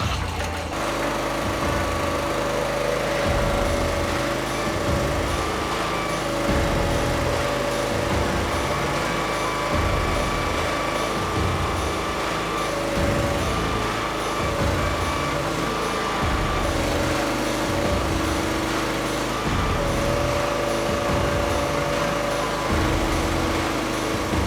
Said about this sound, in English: This dumper is powered by a Honda 13 horsepower engine.